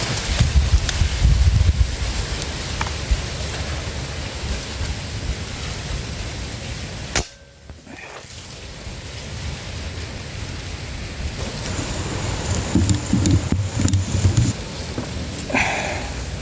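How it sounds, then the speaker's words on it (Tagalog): Strong gusty wind blowing near a sugarcane field, a broad rushing roar buffeting the microphone, dropping out briefly partway through and then swelling again, loud and constant with no talk. "Grabe yung ihip ng hangin."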